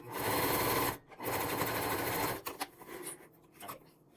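A sewing machine stitches a leather crossbody bag with a double zipper, running in two loud, steady bursts of rapid mechanical chatter, then stopping for quieter handling and shuffling.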